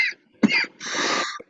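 A person coughs and clears their throat at close range, with a short hack, a longer rasping throat-clearing burst, and a final sharp cough.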